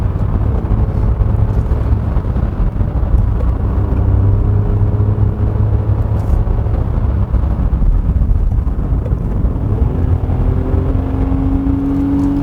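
A 2022 Hyundai Casper Van's 1.0 gasoline engine drones steadily through the cabin on a winding road, with a low rumble and a tone that climbs under hard kickdown acceleration late on.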